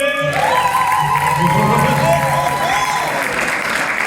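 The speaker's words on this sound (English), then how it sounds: "Give them a round of applause, everybody." Loud live-theatre audience applause for comedy improv players, steady dense clapping mixed with crowd cheering and a few whoops throughout, with a voice calling out over it near the start.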